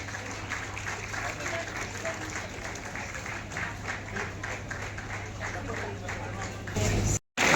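An audience keeps up loud, continuous applause at an awards event honouring women under the Mission Shakti phase five campaign, a dense steady clapping that ends in a sudden brief cut.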